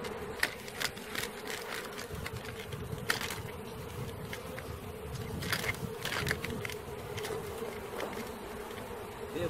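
Continuous droning hum of a honeybee swarm buzzing close by, with scattered individual bees whizzing past the mic; no speech.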